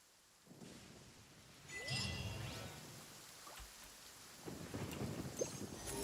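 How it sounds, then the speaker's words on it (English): Rain and thunder in a video game storm: steady pouring rain with low rolling thunder swelling and rumbling, fairly quiet, with no talking. "Why did it have to rain in the end?"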